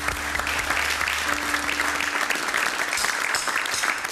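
Audience clapping for Wiglaf Droste at a live music performance, loud dense applause filling the whole moment with some crowd voices mixed in.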